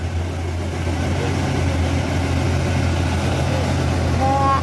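An orange Fuso truck's engine rumbles low and steady as the cab shakes, squeezing along a narrow road; the heavy drone holds throughout, loud and close, with a brief whine near the end.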